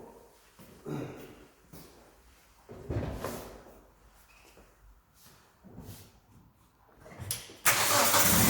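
A car engine starts in a workshop: a short cranking whir catches and jumps into a loud, steady running roar that continues to the end, with scattered handling noises before it.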